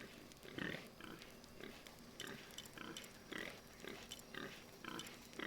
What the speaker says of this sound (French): Il y a toujours sur ce feu de camp le bruit des espèces de cochons là